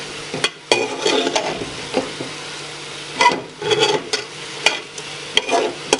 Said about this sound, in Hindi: अब मसाला डालने के बाद हम इसको तकरीबन 2 से 3 मिनट तक आप मज़ीद भून लेते हैं।